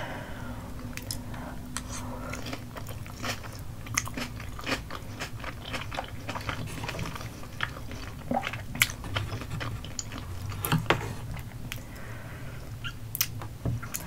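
Close-up eating of cheesy spicy rice cakes (tteokbokki) with snow crab in a mukbang: repeated soft chewing, wet bites and sharp crunchy clicks sound at an irregular pace, with no talking.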